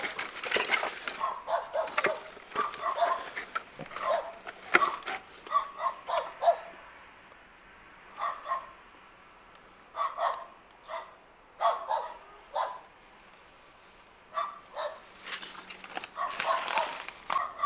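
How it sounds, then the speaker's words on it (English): Several dogs barking repeatedly from behind a wall at an abandoned gasworks, sharp bursts in irregular clusters with brief yips, moderately distant and fairly loud against quiet outdoor background. "You can probably hear those dogs"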